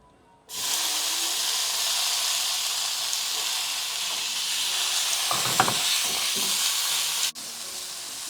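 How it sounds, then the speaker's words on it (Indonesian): Large chilies and meat hit a hot pan with a sudden loud sizzle that holds steady and close, with a few brief stirring clatters partway through and a short break near the end. "Lanjut saya mau masak cabai besar sama daging."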